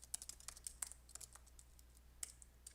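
Fingers type a command into R on a computer keyboard, giving quick, uneven bursts of crisp key clicks with short pauses between, close and fairly quiet over a low steady hum.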